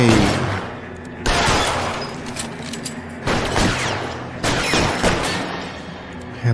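Gunfire in L.A. Noire comes as bursts of loud shots in rapid clusters, separated by short gaps of reverberant tail and rattling, close and dominant.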